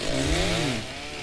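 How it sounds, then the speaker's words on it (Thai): A chainsaw in the Roblox game 99 Nights in the Forest revs loud and close while cutting wood, a buzzing whine that sweeps in pitch and then settles into a steadier drone. "เดี๋ยวเริ่มตัดไม้ก่อนแล้วกัน ตัดไม้สะสมท่อนไม้ฮะ"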